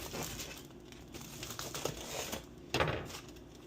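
A knife saws into a hot loaf of crusty bread, giving a few soft crackling, crunchy strokes with a louder crunch near the end, fairly quiet and close.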